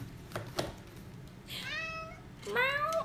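A cat gives two clear meows, the second louder and closer, each a short rising-then-falling call over faint background shuffling.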